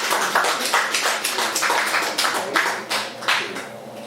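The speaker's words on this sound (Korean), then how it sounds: "박수 안 쳐줘요?" Church congregation applauding, a loud, close burst of rhythmic clapping that pulses in regular waves as many hands strike roughly together, with no voices over it.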